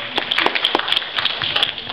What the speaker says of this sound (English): please give applause for this great